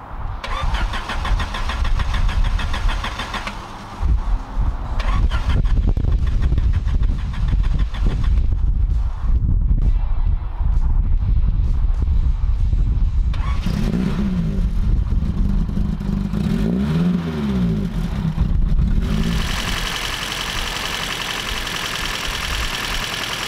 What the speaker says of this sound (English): So now it's just a case of opening them up a little bit on the butterflies, starting up the car, and then obviously balancing and tuning them.